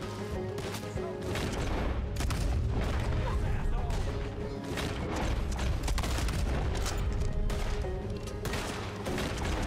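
Shotgun fire in Red Dead Redemption 2 comes as a dense run of loud, booming blasts. The bursts pile onto each other over a constant busy game background throughout.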